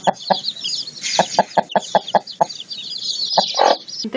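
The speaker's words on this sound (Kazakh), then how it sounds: "Мамасы Тауық." A hen clucks in a quick, uneven series of short, sharp clucks close by, broken by a couple of longer, drawn-out calls toward the end, with no speech.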